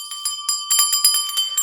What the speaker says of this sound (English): next thing you can do is you can ring bells